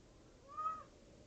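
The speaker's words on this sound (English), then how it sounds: "Cat?" A cat lets out a single short meow, rising and falling in pitch, clearly heard over a quiet indoor background with no talking.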